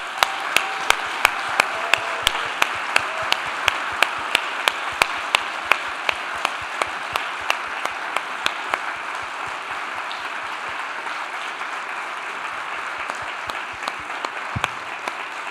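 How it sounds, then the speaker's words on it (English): A conference audience at a JavaScript event gives its speakers a big round of applause, a dense sustained clapping heard from within the hall, with a steady beat of sharp rhythmic claps over the first half that fades into general applause. "Help me thank our speakers with a huge round of applause"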